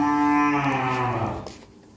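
A Sahiwal cow with her calf at a village cattle sale gives one long, loud, close moo that slides downward and fades out near the end.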